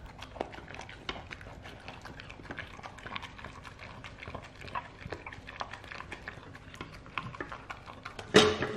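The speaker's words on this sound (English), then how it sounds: "You licked the bowl clean." A dog eats food from a bowl, with rapid irregular clicks and licks of the tongue and teeth against the bowl, close and fairly faint, ending in a sharper louder clatter.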